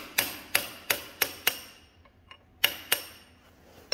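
A brass drift is hammered to drive a stuck pin from a Caterpillar RD-4 crawler tractor chassis, giving sharp metallic strikes in a steady series of five, a short pause, then two more, close and clear.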